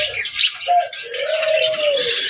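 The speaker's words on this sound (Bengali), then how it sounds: "সাদা ঘুঘুটা" A white dove bathing in water coos softly and close by in one drawn-out call, with light splashing and rustling around it.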